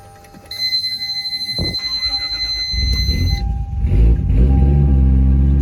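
Turbocharged Lexus GS300 cold start: a dashboard chime tone, then the starter cranks and the engine catches, rising into a loud, rough idle rumble that grows heavier toward the end.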